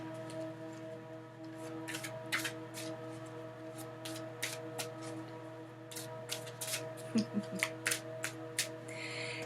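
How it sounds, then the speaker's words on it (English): A tarot card deck is shuffled close by in quick, irregular bursts of crisp flicks and taps over a low steady hum. "Now let's shuffle my deck up."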